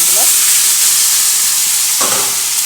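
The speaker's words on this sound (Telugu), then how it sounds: "ఉడికించిన ఆలు, ఉల్లిపాయ, క్యారెట్, టమోటా, వంకాయలు అన్నీ వేసేస్తున్నానండి" Boiled potato, onion, carrot, tomato and brinjal are tipped into a hot pan for a stir fry, producing a loud, continuous sizzle with two short scrapes of stirring.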